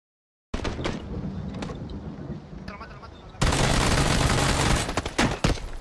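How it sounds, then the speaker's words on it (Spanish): Enemy gunfire in PUBG, starting as steady crackling bursts and becoming a louder, denser barrage midway, with a few sharp single cracks near the end. "¿Me está disparando el otro?"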